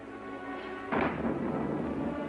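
A clap of thunder during a storm bursts suddenly, a broad rumbling crack that swells and then rolls on steadily over a faint background hum.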